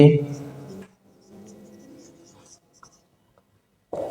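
A pen writing a date on paper, heard as faint scratchy strokes after a few spoken words, followed by near silence.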